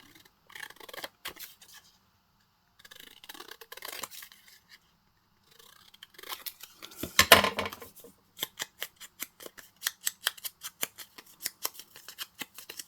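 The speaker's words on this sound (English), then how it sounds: "I am going to cut around this frame." Paper frame cut with scissors: several bursts of snipping with pauses between, then a faster run of sharp, regular snips close by, no talk.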